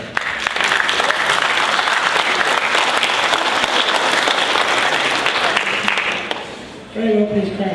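A pleased crowd at a convention broadcasters' panel bursts into dense, sustained applause that fills the room for about six seconds, then fades as a voice begins speaking near the end.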